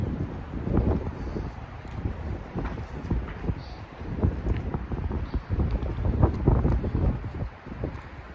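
Strong wind gusting outdoors during a calisthenics workout, a steady low rumbling buffet across the microphone with surging gusts, loud and continuous throughout with no talk.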